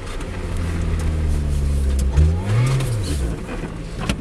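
Engine of a Lotus Exige driving on snow, held at steady throttle with a constant droning note, then rising and falling as the revs swing, heard close and loud without any voices.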